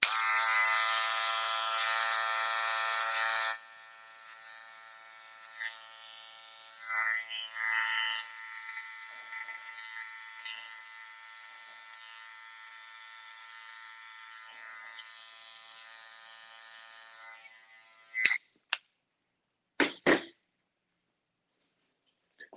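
Electric hair clippers with a number 2 guard and the lever closed, blending a modern textured men's haircut: a steady buzzing hum, louder at first then quieter as it glides through hair, ending with a few clicks and handling noises.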